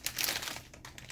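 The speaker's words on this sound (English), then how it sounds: "So, meron tayong isang malaking plastic bag dito." A large plastic shopping bag is crinkled briefly at close range, a short burst of crisp rustling.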